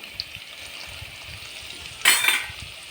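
Tempering spices fry in a pan with a steady soft sizzling hiss, then a short louder burst of sizzle and clatter near the end.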